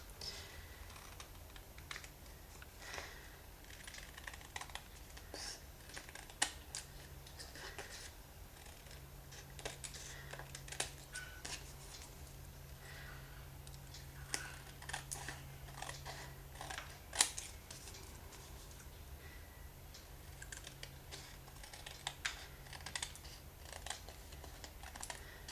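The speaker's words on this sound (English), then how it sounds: "we're just going to cut off and cut around this piece of paper that we originally attached them to" Scissors cut around a piece of paper while a stamped card is being made, giving faint, sparse snips and small clicks against a quiet room.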